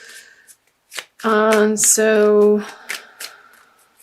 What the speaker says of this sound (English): So I feel like these want to be shuffled.